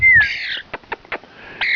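A rescued pet bird gives loud, harsh squawks and caws close up, with a few short clicks between the calls.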